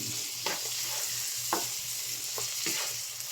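Garlic and shrimp sauté in a pan with a bright, steady sizzling hiss, a low hum underneath and a few soft stirring scrapes spaced about a second apart.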